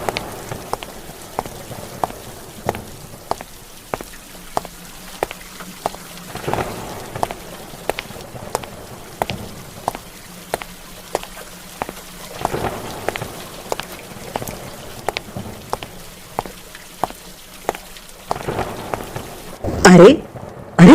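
Rain falls steadily on surfaces outdoors in a village setting, a dense patter punctuated by regular sharp drips or knocks, with a louder burst near the end.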